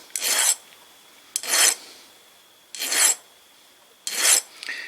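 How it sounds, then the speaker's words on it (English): Four separate hand-file strokes rasp across small metal engine parts for a 1920 International Type M engine, each stroke a bright scraping burst of about half a second, evenly spaced with short pauses, close and clear. "I'll just be filing these down, by hand"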